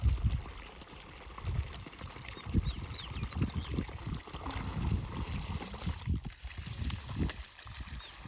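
Irrigation water pours and trickles through a pipe in a farm field, a soft, close, gurgling flow with uneven splashy bursts, fairly quiet throughout.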